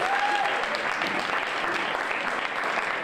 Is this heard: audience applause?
yes